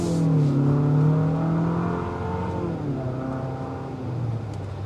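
A 2025 Infiniti QX60 Luxe SUV with a VC-turbo four-cylinder and front-wheel drive accelerating hard, its engine droning and rising steadily in pitch, close and loud throughout with no talking.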